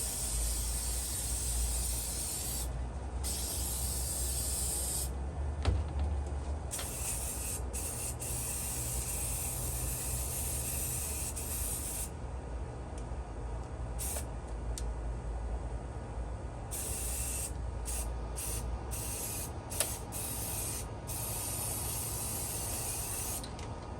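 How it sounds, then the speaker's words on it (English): Steady hissing spray paint, used on a plastic lantern, runs almost continuously, broken by brief pauses, with a low mechanical hum underneath. "Spray it a little."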